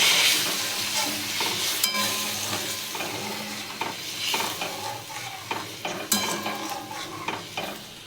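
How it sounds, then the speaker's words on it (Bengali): Duck egg curry bubbling and sizzling in a pan while being stirred, a loud, close, continuous hiss with scraping strokes and occasional clinks, no voices. "তরকারিটা ফুটে গেছে"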